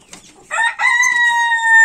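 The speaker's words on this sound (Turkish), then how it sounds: "Evet, çıkan civcivlerimiz bu." Several high, thin peeping calls from newly hatched chicks, starting faint then turning into a loud, sustained cheep close by.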